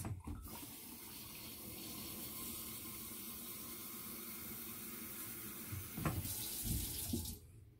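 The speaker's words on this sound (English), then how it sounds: "And now I'm just going to add some like warm water to it to kind of bring it to the right temperature." Warm water pours from a kitchen tap into a bowl while einkorn bread dough is being made, a quiet, continuous splashing stream that shifts in tone briefly before stopping, with no voices.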